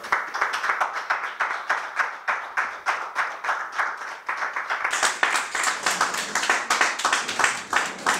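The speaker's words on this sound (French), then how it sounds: "s'il vous plaît, sous vos applaudissements, on va faire venir Blaise Boula." A crowd applauds to welcome an artist at a Paris screening event, steady rhythmic clapping from many hands that swells louder midway and continues.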